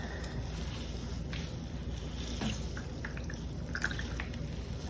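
Water drips and trickles steadily from grated zucchini squeezed by hand in a home kitchen, with scattered small splashes over constant background noise and no talk.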